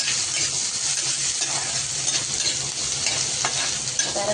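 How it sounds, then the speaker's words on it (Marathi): Chopped onion sizzles and crackles steadily in a hot pan while being stirred and sautéed, a continuous bright frying hiss with faint scraping, close and alone without any talk. "कांदा आता परतलाय आपला."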